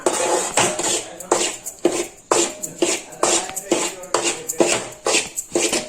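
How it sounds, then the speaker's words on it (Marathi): Wheat flour being roasted in a pan for ladoos, stirred with a utensil in a steady rhythm of scraping strokes against the metal pan, close and fairly loud, repeating roughly twice per second. "पीठ चांगलं खमंग भाजून घ्यायचं तांबूस कलरवर"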